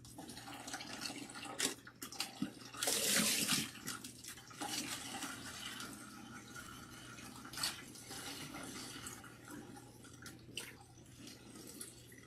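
Water is poured from a bucket while rinsing hair, a burst of splashing in the middle amid scattered drips and trickles, fairly quiet, with a low steady hum underneath.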